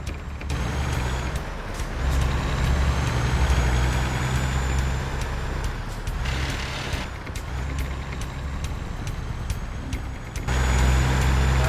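Truck engine in American Truck Simulator rumbling steadily with shifting load, punctuated by sharp hisses and clunks, heard alone at moderate loudness.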